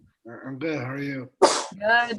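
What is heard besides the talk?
sneeze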